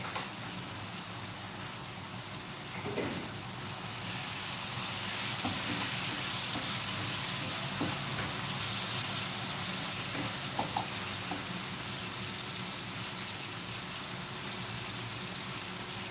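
Garlic and pepper fry over moderate heat in a pan, giving a continuous soft hiss at an even level throughout, with no speech.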